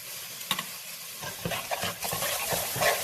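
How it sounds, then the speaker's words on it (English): Tomato sauce goes into a pot of shrimp rice soup, with a soft sizzle and a few stirring scrapes and taps against the pot, close and moderately quiet. "And we're going to add the tomato sauce."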